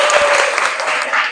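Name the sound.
class applause for Ella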